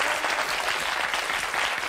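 A TV studio audience applauds, dense, even clapping that holds steady and loud the whole way through, with no talk over it.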